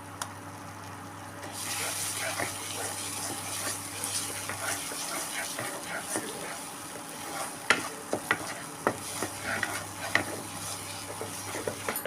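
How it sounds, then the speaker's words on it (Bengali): Ginger-garlic paste sizzles in hot oil over browned onions for a Bengali doi katla fish curry, a steady close frying hiss broken by scraping and clicking stirring strokes that grow busier toward the end. "আদা রসুনটা ভালো করে ভেজে নেব"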